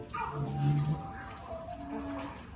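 A puppy yipping and whimpering in a few short, high cries, close by, with some background noise around it.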